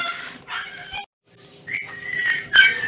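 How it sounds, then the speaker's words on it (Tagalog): A nearby dog barks and yips in short, uneven bursts with brief pauses, fairly loud and alone. "Maingay dun ang yung aso"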